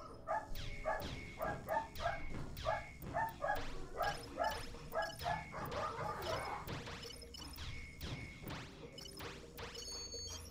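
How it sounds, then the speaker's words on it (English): Household dogs bark in a steady rhythmic series of loud, close barks, later joined by game sounds and clatter while the barking continues in bursts, with no speech. "Once again, apologize for the dogs."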